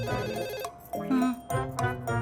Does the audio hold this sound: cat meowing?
no